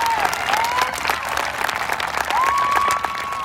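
An outdoor crowd at a high school graduation claps steadily throughout, with a high whistle-like tone rising over the applause at a couple of points.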